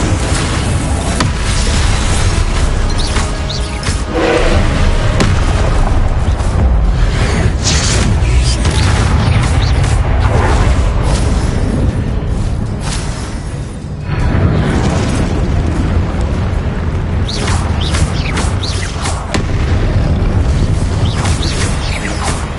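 Repeated Confringo blasting-spell explosions in a wizard video game: dense, loud booms and bursts with whooshing tails, coming in quick succession and overlapping throughout, with a brief lull partway through.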